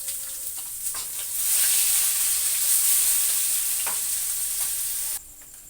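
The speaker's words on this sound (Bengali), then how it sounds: "গোটা জিরে এটা ফোড়ন দিয়ে দিচ্ছি" Whole cumin seeds sizzle in hot oil in a kadai for tempering, a bright continuous hiss that swells after a second, holds steady, then cuts off abruptly near the end.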